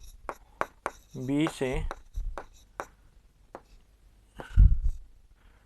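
Pen or pencil writing on paper during a geometry construction for triangle ABC, with scratchy strokes and taps that come and go while a voice speaks briefly in between.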